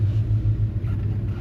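A 1961 Chrysler Imperial LeBaron rumbles at low speed as it rolls into a shop, a steady, deep engine drone heard up close without talk.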